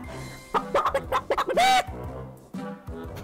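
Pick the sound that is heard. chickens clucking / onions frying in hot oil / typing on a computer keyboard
chickens clucking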